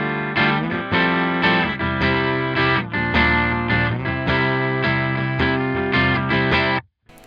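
Electric guitar played hard through a Logic Pro amp simulator, with slight breakup on the chords; strummed chords ring at a steady rhythm, loud and close, then cut off abruptly at the end.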